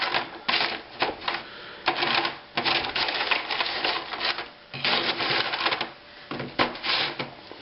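A spatula scrapes and clatters frozen squash chips off a tray in quick, bursty runs of scratchy clicks with brief pauses between, close up and without speech.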